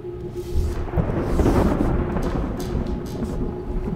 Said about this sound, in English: That was a nice transition into the thunderstorm.